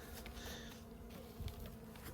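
Honey bees hum inside a double-stacked hive with newspaper laid between the boxes, giving a faint, even drone and a brief low thump partway through.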